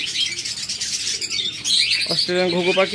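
Caged birds at a farm holding diamond doves, Australian doves, lovebirds, cockatiels and budgerigars chirp and tweet in a busy close chorus, with a burst of rapid repeated call notes near the end.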